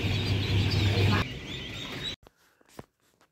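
Newly hatched ducklings in a hatchery, peeping and quacking as a dense, continuous chorus up close that drops away abruptly, leaving a few faint scattered calls and handling noises.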